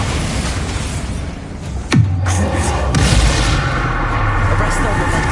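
A Bombarda spell explosion in the Hogwarts Legacy video game goes off as a single sharp blast with a descending sweep, followed by a second lighter impact, over a steady game background.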